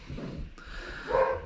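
A puppy of about eleven weeks snorts and breathes close by in short, soft, irregular huffs, with one quick sharp sniff partway through.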